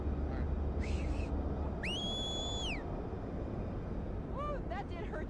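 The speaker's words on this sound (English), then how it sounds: "When they launched, I heard your big whistle." A person gives a loud, high whistle at a hot air balloon launch during a competition weekend in Concord, New Hampshire: one long sustained rising-then-steady tone, followed by shorter chirps over steady outdoor crowd and burner noise.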